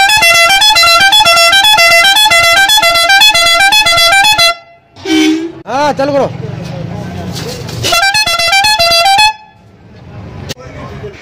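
A loud, multi-tone pressure horn on a Mahindra Bolero pickup truck blares repeatedly in long blasts, with a short spoken exchange and clattering in a pause between honks.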